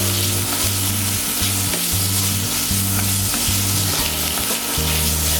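Thick-cut bacon sizzles steadily in hot oil, a dense continuous crackle and spatter close by, with a low rhythmic hum running underneath throughout.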